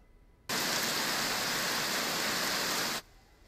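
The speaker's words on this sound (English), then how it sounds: "This is new video of the pounding rain in Hickory that caused flash flooding in some areas." Pounding rain from a severe thunderstorm in Hickory, heavy enough to cause flash flooding, pours as a loud, dense, steady hiss that starts abruptly, holds for about two and a half seconds, then cuts off sharply.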